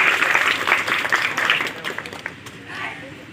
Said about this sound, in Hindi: जोरदार तालियां हो जाए मैम के लिए